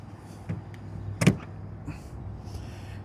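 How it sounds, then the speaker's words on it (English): A heavy air-cooled DC fast charger connector on a Power Electronics charger latches into a car's port with one sharp, close mechanical clunk-click, framed by softer handling knocks over a low steady hum. "you heard it. The mechanism latch."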